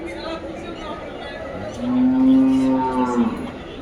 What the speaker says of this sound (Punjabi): ਬਹੁਤ ਡਬਲ ਮੱਝਾਂ ਪਹੁੰਚੀਆਂ ਹੋਈਆਂ ਬਈ ਆਪਣੀਆਂ